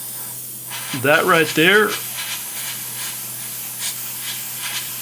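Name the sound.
airbrush spraying MRP paint on model Spitfire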